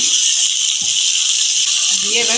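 Cauliflower florets fry in hot oil seasoned with turmeric and salt, giving a loud, steady, close sizzling hiss that runs unbroken throughout, with faint low murmurs underneath.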